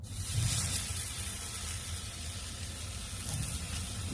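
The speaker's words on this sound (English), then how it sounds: "So put it on a sear." Picanha sirloin cap steak searing on a Hasty Bake Legacy charcoal grill at its top sear setting, a steady close sizzle and hiss that holds evenly throughout with no talking.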